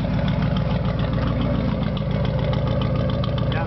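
A 1994 Chevy project truck engine idles loud and steady through its exhaust tips, a continuous low rumble with a throaty, uneven burble held close by throughout.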